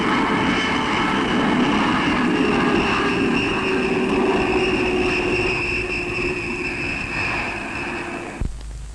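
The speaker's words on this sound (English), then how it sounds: "In-flight drops from a jet aircraft." A jet aircraft flies overhead during in-flight drop tests of the Ikara anti-submarine missile, a loud steady engine roar and whine that holds for several seconds before cutting off abruptly.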